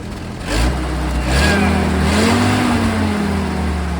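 A car engine revs up, its pitch rising and holding steady at a loud, close rumble, with no talking over it.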